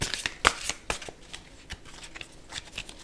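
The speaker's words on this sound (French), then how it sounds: "je voulais tirer une carte pour le professionnel" A deck of cards being shuffled and a card drawn, with close, crisp riffling and several sharp slaps and flicks in quick irregular succession.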